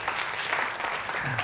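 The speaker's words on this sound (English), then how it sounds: "Ladies and gentlemen, a huge round of applause for Sri Konchon Datta." A brief burst of audience applause at a stage event in India, dense and fairly loud clapping from a crowd, with a low voice murmuring faintly underneath toward the end.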